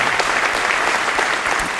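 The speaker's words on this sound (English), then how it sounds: "Please give these employees a round of applause" An audience at a police services awards ceremony applauds steadily, a dense, even wash of clapping that holds at full strength from start to finish with no voices over it.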